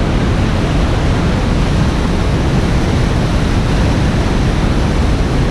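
Lower Rainbow Falls waterfall on the Pacific Crest Trail in California, a loud unbroken roar of falling water heard close and steady throughout.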